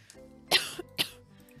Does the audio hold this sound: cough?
yes